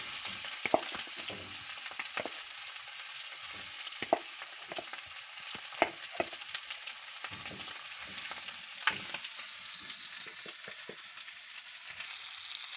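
Oxtail pieces searing in a hot pan give off a loud, continuous sizzle close by, broken by occasional clicks and scrapes as the meat is moved and turned. No one talks.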